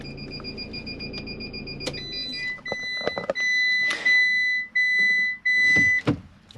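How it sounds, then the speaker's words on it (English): A Swift motorhome's electronic beeps repeat in a steady series of high tones after the engine starts, confirming a hookup, with a few clicks and switch sounds between them. "if I start the engine, that beeping's just to say we're hooked up"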